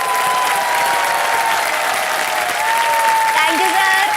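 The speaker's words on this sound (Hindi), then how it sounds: "तालियां बज जाएं जोरदार।" Loud studio audience applause on a Hindi quiz show set, steady and dense throughout, with a sustained tonal music bed running underneath.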